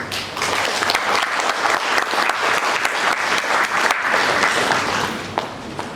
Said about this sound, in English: Give them a big round of applause to the faculty and parents